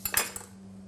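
Metal spoon scraping the seeds and stringy pulp from the inside of a halved butternut squash, a few short clinking scrapes close up, then quiet.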